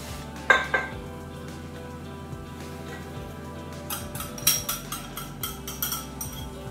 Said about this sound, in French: on mélange pour obtenir une belle pâte